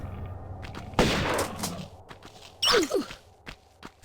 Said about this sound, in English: Blast this one with a shotgun.